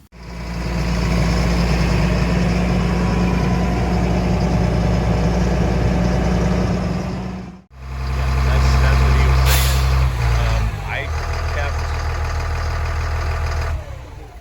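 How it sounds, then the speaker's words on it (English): A military FMTV truck engine idles loudly while its air tanks fill, then the purge valve releases a sharp hissing blast of air, after which the engine settles back to a steady idle. "So get your tanks to fill up, your purge valve to blow"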